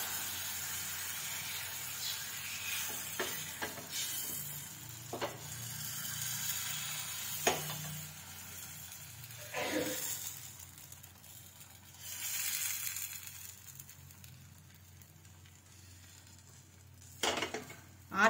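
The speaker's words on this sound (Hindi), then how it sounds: "मगर मैं 2 बूंद तेल डाल दूंगी और ये ताकि अच्छे से सिक जाए" A mixed vegetable paratha cooks with a couple of drops of oil on a non-stick pan over medium heat, giving a faint, soft sizzle with occasional scraping and utensil clinks against the pan.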